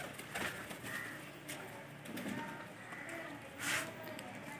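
Soft pigeon coos repeat a few times against a busy, noisy background in a Pakistani village, with faint fluttering and rustling nearby.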